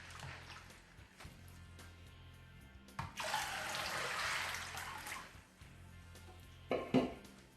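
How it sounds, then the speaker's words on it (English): Warm water pouring into a bowl of beans in a short, splashing burst, with quiet clinks and handling sounds before and after. "get warm water. Pour some water to cover the beans."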